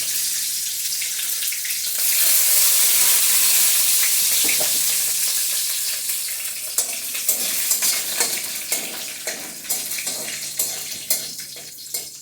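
Whole spices (bay leaves, peppercorns, cloves and cumin seeds) sizzle in hot oil with a steady bright hiss, then a stirring spoon adds scraping clicks over the frying.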